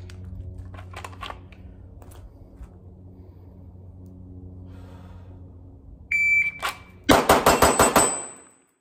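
A Staccato C2 pistol fitted with a Monsoon Tactical Genghis comp fires a rapid string of about five or six sharp, loud shots near the end, preceded by a beeping shot timer and quiet range noise.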